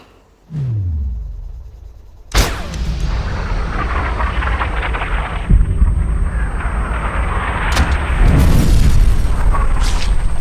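A sniper rifle shot fired in the video game Sniper Ghost Warrior, a sudden loud boom followed by a long rumbling tail, with more heavy booming impacts and sustained noise after it.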